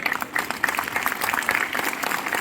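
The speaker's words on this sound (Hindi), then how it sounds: "और एक ग्लोबल स्टेज है तो जोरदार तालियां होनी चाहिए" A crowd applauds at an Enagic India sixth-anniversary stage event, a dense continuous patter of clapping that holds steady for the whole stretch.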